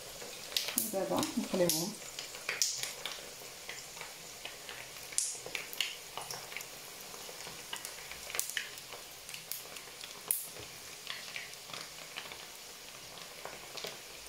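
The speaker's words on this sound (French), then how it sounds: "Donc là je vais les faire frire." Honey and sesame babouche pastries fry in hot oil at medium heat, a faint, steady crackling sizzle with scattered pops, while someone speaks over it at the start.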